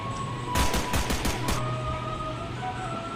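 Gunfire in the Mimicry video game comes as a quick burst of about six rapid shots over roughly a second, loud against steady game ambience.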